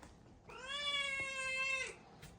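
A cat gives a single clear, drawn-out meow of about a second and a half, close and fairly loud, with quiet surroundings before and after.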